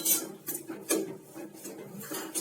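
A spoon scrapes and knocks against a pan as chopped jaggery is stirred into roasted flour for farali sukhdi, making repeated rhythmic metallic scrapes and clinks about every half second, close and fairly quiet.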